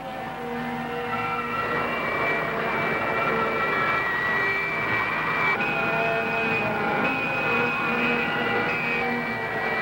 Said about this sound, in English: I'll increase the thrust to Mach 80.